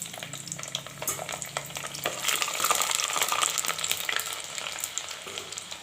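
Ten garlic cloves drop into hot oil with popped mustard seeds and cumin for a village-style prawn tamarind gravy, sizzling and crackling with sharp spits and pops that swell midway and then settle into a steady fry.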